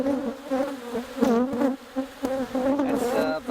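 Honey bees buzzing close around an open hive frame full of brood and pollen, a dense wavering drone with individual bees passing near the mic, loud and continuous, no speech.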